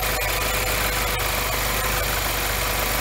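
A Silver Coupe idles just after start-up, its engine loud and close with a steady low throb and faint regular ticking pulses, no voices.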